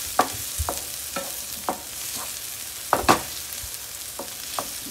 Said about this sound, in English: mixing up my veggies